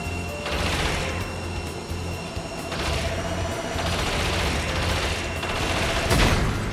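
Enemy gunshots in the video game Spyro 3: Year of the Dragon, rapid bursts of fire that repeat in waves over busy mechanical game sounds and a low musical drone, loud and continuous with no talking.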